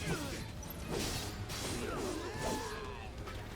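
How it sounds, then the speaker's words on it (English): Grenades exploding in Final Fantasy VII Remake, crashing bursts that smash and whoosh amid dense combat noise, loud and continuous throughout with layered battle effects. "Those are grenades."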